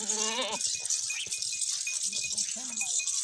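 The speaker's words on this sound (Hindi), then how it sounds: "ये वाली बकरी है" A goat gives a loud, wavering bleat at the start, near and clear, followed by a person talking over a faint rattle in the background.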